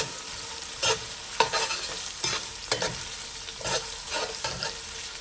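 Onions frying over medium heat for Jamaican steamed cabbage, a soft steady sizzle broken by several scraping stirs of a spoon across the pan, close by with no voices.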